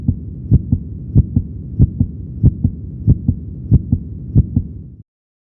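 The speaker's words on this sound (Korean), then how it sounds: "심장이 정말 빠르게 뛰고 있어요." A fast human heartbeat thumps in clear lub-dub pairs, about eight quick even beats in a row, loud and close with nothing else over it, then stops abruptly.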